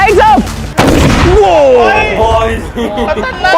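A large Diwali firework bursts with a sharp, loud bang partway through, followed by a lingering rumble and crackle as it fades; voices are heard over it.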